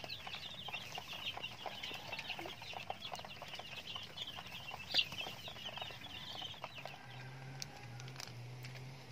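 Nine-day-old chicks peep continuously in a dense, high, chattering chorus, close and fairly faint, with a soft low hum beneath and one brief louder chirp.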